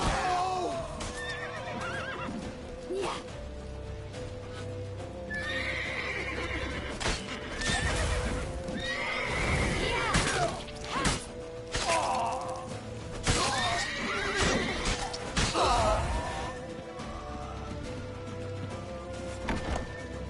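A horse neighs and whinnies repeatedly over a busy, continuous backdrop of hoofbeats and commotion during a chase in The Witcher video game, loud and sustained throughout.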